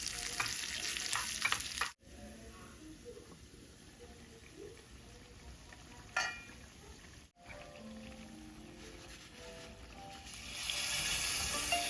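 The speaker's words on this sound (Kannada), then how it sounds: "2 ಟೇಬಲ್ ಸ್ಪೂನ್ ತೆಂಗಿನೆಣ್ಣೆ, ಅದು ಬಿಸಿ ಆಗಬೇಕಾದ್ರೆ ಸಾಸಿವೆ, ಆಮೇಲೆ ಉದ್ದು, ಒಣಮೆಣಸು ಮತ್ತು ಕರಿಬೇವಿನ ಎಲೆ ಹಾಕಿ ಮಿಕ್ಸ್ ಮಾಡಿ." Mustard seeds, urad dal, dried chillies and curry leaves fry in hot coconut oil for a Kerala-style chicken sukka, a quiet crackling sizzle with stirring scrapes, broken by two brief dropouts and swelling louder at the end.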